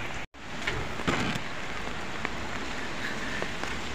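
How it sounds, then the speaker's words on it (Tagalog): Steady heavy rain pours down on a morning commute beside a highway, a dense even hiss with scattered drops and faint knocks, one brief gap near the start, no voices. "Umuulan pa."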